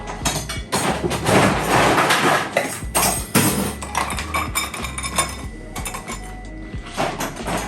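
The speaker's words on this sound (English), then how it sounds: "Now we're just going to add some ice and give it a good stir." Ice being stirred in a cocktail glass, a continuous run of close, bright clinks and rattles of cubes against glass and spoon, with no talking.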